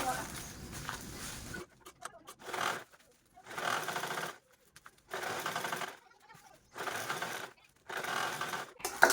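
A sewing machine double-stitching a zipper onto a fabric bag, running in repeated bursts of rapid mechanical whirring separated by short pauses, close and loud.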